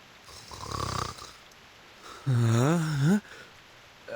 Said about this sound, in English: What we want to know is how an apple can snore.